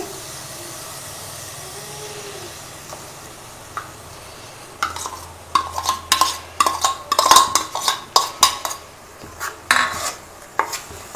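Ground masala being stirred and fried in a pan over a low to medium flame for egg masala curry, with a soft steady hiss and a run of brisk metal spoon scrapes and clinks in the second half.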